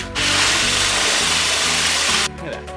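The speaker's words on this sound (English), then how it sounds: "put it in the drill," A power drill spins a bolt against sandpaper during a Torsen differential install on an EcoTec Miata build, producing a loud, steady grinding whir for about two seconds before stopping abruptly into quieter background noise.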